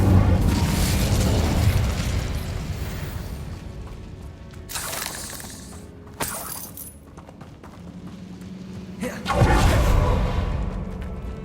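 Incendio fire spell cast in Hogwarts Legacy, heavy bursts and booming whooshes of flame, loud and close, with several strong blasts in the mix and a voice speaking spell names.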